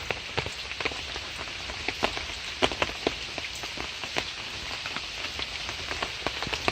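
Rain falls on a pond in the rainy season as a steady, dense patter, with sharper individual drops splashing nearby throughout.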